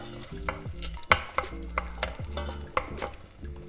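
Garlic and a bay leaf sizzle in hot oil in a pan, a steady frying hiss broken by several sharp scrapes and clacks of stirring. No one speaks.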